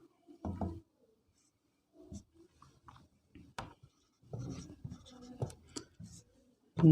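Chalk-like strokes of a math solution being written on a board, short scratchy bursts separated by brief pauses, close and alone.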